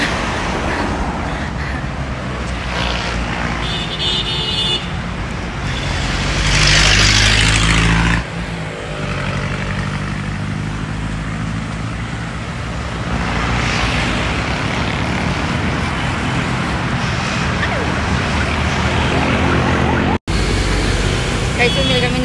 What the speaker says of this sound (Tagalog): Dito na kami sa highway.